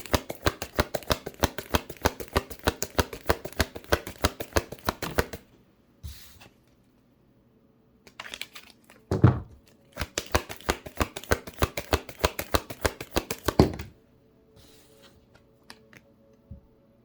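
Tarot cards riffled and shuffled in two long rapid bursts of crisp flicking, close and clear, separated by a quiet gap with a few soft handling sounds.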